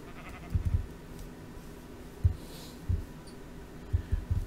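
Sheep in Minecraft bleat in short, faint calls spaced irregularly over quiet ambient game sounds, with no talking.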